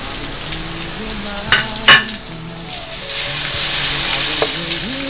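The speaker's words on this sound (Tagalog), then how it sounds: "Pag nagisa natin yung mga sibuyas, kamatis" Onions and tomatoes sauté in a pan for beef kaldereta, a steady close sizzle with occasional stirring scrapes and clinks throughout.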